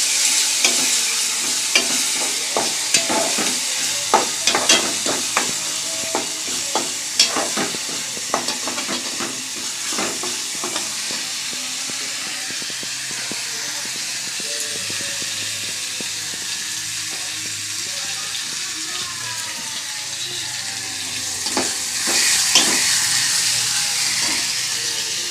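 Lentils and spices such as chilli powder, turmeric, black cumin, semolina, rice flour and gram flour sizzle in hot oil in a pan while being stirred, with a steady close hiss and frequent scraping taps from the spoon.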